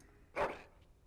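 In the video game Dragon Age: Origins, a dog gives a single short, excited bark, faint and brief, over a low background hum.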